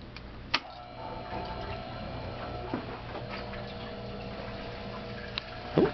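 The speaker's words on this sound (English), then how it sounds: "Turn the circulating pump on, maybe?" A water circulating pump runs in a hydronic heating system with a steady, low mechanical hum and faint whir, broken by a few sharp clicks and ticks near the start and end.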